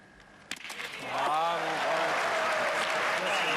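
Applause from the crowd at a pétanque world championship final starts suddenly and swells into steady, loud clapping, with a commentator's voice heard over it.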